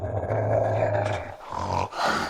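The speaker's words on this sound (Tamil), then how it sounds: "திடீரென அசுரன் தனது பெரிய வாயை திறந்து கோவிந்தை பார்த்து சத்தமாக கர்ஜித்தது" A monster lets out a deep, loud, growling roar as a story sound effect, rumbling continuously with rough guttural swells and brief dips before rising again, with no speech over it.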